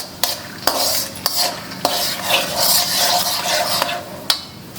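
Peanuts fry in a pan over a medium flame for poha chivda: a loud, continuous sizzle with repeated sharp clacks and scrapes of a stirring spoon.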